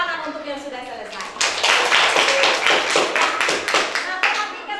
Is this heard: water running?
no